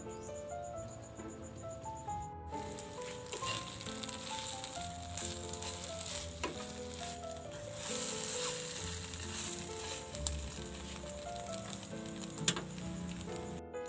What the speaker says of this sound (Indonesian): Kentang sama wortel aku rebus kemudian aku tumis.